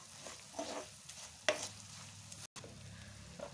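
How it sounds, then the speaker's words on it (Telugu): Chili powder frying in hot oil for a Telangana-style spicy garlic powder, a soft sizzle with light stirring scrapes and one sharper clink, close and fairly quiet. "ఈ కారం పొడిని అయితే మనం వేసుకున్న తర్వాత మంచిగా ఆయిల్లో అయితే ఫ్రై అయ్యే వరకు వేడి చేసుకోవాలి"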